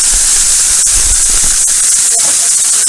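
Onions sizzle in a pan for beef tips, a loud continuous hissing crackle close up with a few small pops.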